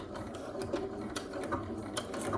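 A sewing machine back stitching a bodice seam, a steady mechanical whir with faint clicks, close and fairly quiet, with no talking.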